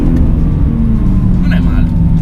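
A Nissan 350Z engine revs hard toward its limiter, a steady, loud drone heard from inside the car, with people talking over it.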